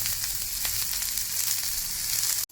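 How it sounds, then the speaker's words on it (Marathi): Onion, ginger and garlic frying in a pan for a Maharashtrian sev bhaji, a loud, dense, continuous sizzle with small crackles throughout, close up and without talk. "आता आपण कांदा भाजतोय कांदा भाजतो असतो"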